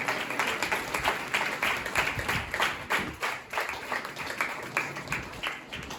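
A church congregation at a 13th anniversary service claps in a steady rhythmic beat, many hands together filling the hall, with brief voices mixed in.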